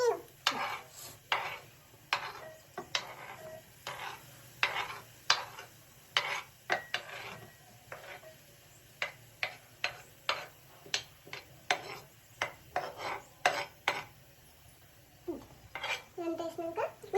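Curry stirred in a cooking pot, a series of sharp metallic clinks and scrapes from a spoon against the pot in an uneven rhythm, moderately close, with faint background noise.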